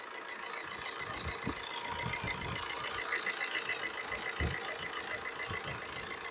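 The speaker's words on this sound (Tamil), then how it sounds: "பாருங்கள் இன்ஜின் ரன்னிங் வீடியோ காமிக்கிறோம் பாருங்கள்" A Tata Manza car's engine runs at a steady idle, a continuous mid-pitched hum with faint knocking pulses, close by and heard alone without talk.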